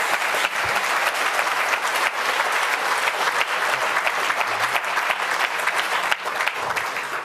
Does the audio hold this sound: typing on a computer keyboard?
no